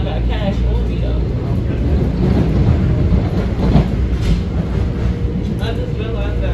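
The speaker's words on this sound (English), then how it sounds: "This is the train to North White Plains." A Metro-North Harlem line M7 commuter train bound for North White Plains rumbles along the rails with a loud, continuous low roar and faint rhythmic clatter, heard from inside the car while people talk over it.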